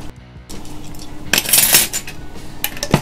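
Metal measuring spoons clink and scrape against a bowl while yeast is added for a bread dough, a few sharp close clatters with a brief louder burst in the middle.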